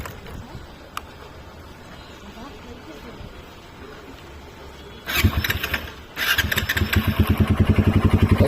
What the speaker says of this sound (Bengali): একটা আপনারা আওয়াজ শুনতেই পাচ্ছেন বাইকের ইঞ্জিন থেকে হচ্ছে